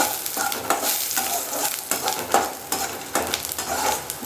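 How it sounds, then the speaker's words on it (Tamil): Garlic cloves frying in a pan for garlic tomato chutney crackle and sizzle close by, with repeated scraping stirs in an irregular rhythm and no talking. "இப்போ பூண்டு பல் சேர்க்க போகிறோம். நல்லா வறுக்கணும்."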